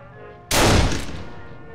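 A single sharp gunshot in a video game bursts loudly and close, then decays over about a second with a short echoing tail.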